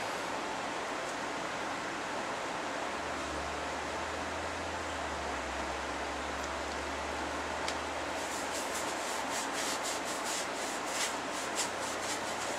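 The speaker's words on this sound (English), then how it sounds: "But sponge will work, so let's do the sponge." A sponge rubs stain onto a sycamore wood bowl with a steady, hissing scrub. Near the end it shifts to quicker, scratchier strokes, close and fairly quiet, with no talking.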